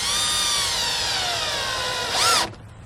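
A power drill drives a screw into 2x2 wood on a wooden pallet compost bin, a loud whine that pitches down under load, then a brief burst as it finishes and stops abruptly.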